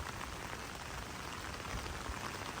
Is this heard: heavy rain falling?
yes